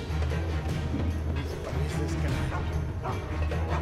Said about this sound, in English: Why does the dog see me?